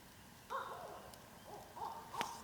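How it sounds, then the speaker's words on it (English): Owl calling at night near a camp on Rosebary Lake, a few wavering hoots rising from a quiet background, one louder call near the end, moderately close with no talk. "Yeah, it's an owl calling."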